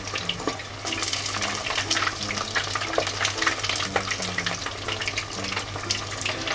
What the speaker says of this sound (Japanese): 最初の1度目の揚げは3分間やります